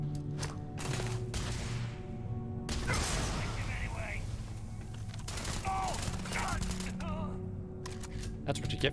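Sci-fi video game combat with enemy spacers firing at the player, bursts of rapid gunfire crackling throughout amid game sound effects and background music.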